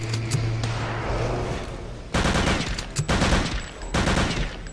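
Machine gun fire in Return to Castle Wolfenstein comes as sharp, loud automatic bursts. They run steadily at first, then break into several separate volleys with brief gaps between them.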